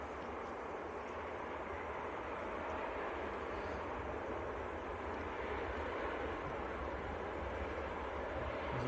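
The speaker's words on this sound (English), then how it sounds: "There's a TUI that's just touched down." A steady, broad roar of a TUI airliner landing at Manchester Airport, sustained at moderate distance with no clear change in pitch and no talking.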